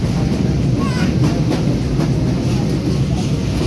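A fast passenger train pulling out of a station heard from inside a carriage, with a steady dense rumble of wheels and car noise throughout, close and loud, and no clear speech.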